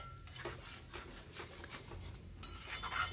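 Prawn curry stir-fried with spices and a splash of water, with a spatula scraping and stirring in a pan in a steady rhythm of rubbing strokes and occasional clinks. No talking.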